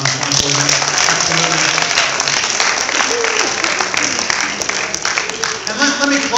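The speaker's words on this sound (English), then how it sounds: "Give them a nice round of applause for putting on a wonderful event." Guests at an after-prom event clap for the parents in a full burst of steady applause, with a speaker's voice sounding through it.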